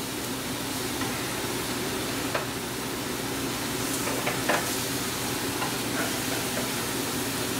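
An ahi tuna center-cut steak sizzles on a gas griddle over medium heat, giving a soft, continuous hiss with a few faint ticks and pops.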